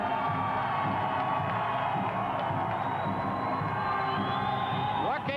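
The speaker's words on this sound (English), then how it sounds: "listen to the roar of the crowd" A wrestling crowd at an anniversary show roars and cheers in a steady, loud, continuous wash of voices that fills the whole span, with a few whistles and shouts rising above it.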